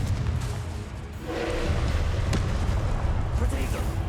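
A Confringo fire-blast spell detonating during combat in Hogwarts Legacy, a heavy booming burst over continuous rumbling battle noise, with dull impacts and a loud sustained swell.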